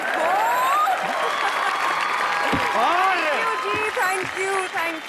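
Studio audience at a Hindi comedy show clapping and cheering, a dense wash of applause under a host's loud, excited speaking voice throughout.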